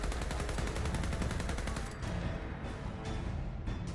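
Rifle gunfire in combat in the video game Fallout 4, a rapid string of loud, evenly spaced shots like automatic fire for about two seconds, then scattered heavier bursts over a rumbling background.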